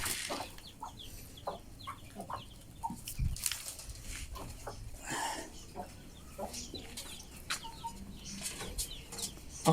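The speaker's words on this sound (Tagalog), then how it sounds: "At nandito yung ating mga native chicken." Native chickens in a small backyard, scattered clucks and short calls with occasional wing flapping, moderately close over a faint ambient background with no talk.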